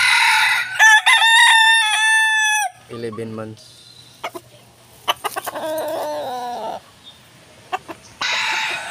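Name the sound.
fighting chickens, rooster clucking and crowing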